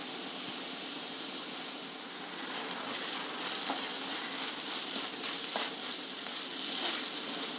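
Fenugreek seeds and onion sizzling in a hot tempering pan, a steady close frying hiss with a few faint stirring clicks and no talk.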